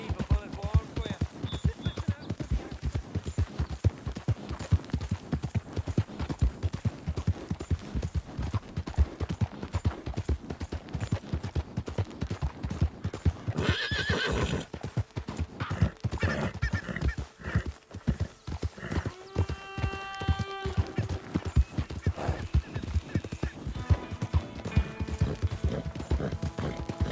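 Horse hooves clip-clop at a steady trot through much of the scene in Red Dead Redemption 2, with a clear whinny or neigh near the end, all under spoken dialogue.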